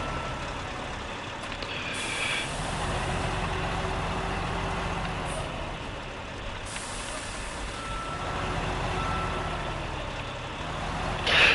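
A truck engine in the SnowRunner video game rumbles steadily at close range while reversing beeps sound in repeated runs and a brief air-brake hiss comes near the end.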